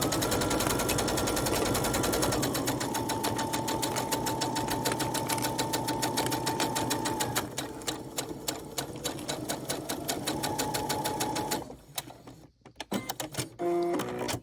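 A sewing machine runs a straight stitch down the fabric pieces of a Christmas tree ornament, a steady rapid mechanical whir that holds for about eleven seconds before stopping, followed by a few light clicks and handling noises.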